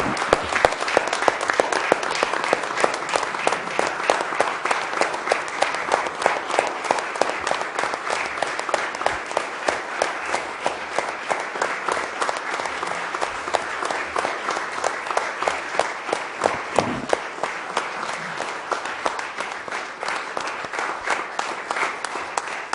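Sustained applause from a group fills the room at a town council meeting, many hands clapping steadily for over twenty seconds without a break.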